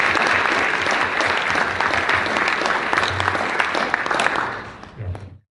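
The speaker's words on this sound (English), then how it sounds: "Let's give them a big round of applause for" Sustained audience applause fills a business gathering honoring hosts from the University of Louisville College of Business at a World Trade Center Kentucky event, steady clapping from a large crowd that fades out at the end.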